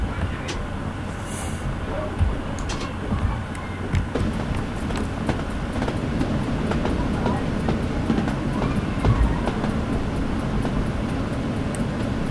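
A Class 303 electric train in Train Simulator 2015 speeds out of Bellshill station with a continuous rolling rumble, punctuated by rhythmic clicks and knocks from the rails, loud and close for the whole stretch.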